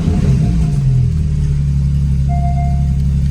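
A Porsche GT4 running a stage 2 91-octane tune fires up and revs, its engine note loud and steady with a rising rev early on, a close, continuous roar with no talk.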